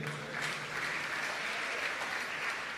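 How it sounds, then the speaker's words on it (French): Audience applause at a church-style talk, steady dense clapping from a crowd throughout, fairly even in loudness with no pauses. "Acclamez pour eux"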